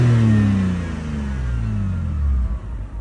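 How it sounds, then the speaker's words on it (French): A BMW 125i E88 with a warm N52B30 inline-six is given a throttle blip: the engine surges loud, then its pitch falls steadily as revs drop back toward idle. "je vais pouvoir mettre quelques coups de gaz pour vous montrer que le régime va bien comme il faut"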